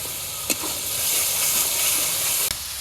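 Onion paste, green chili, cinnamon, cardamom and cumin paste fry in a pan in a village kitchen, giving a steady close-up sizzle and hiss with a couple of sharp stirring clacks.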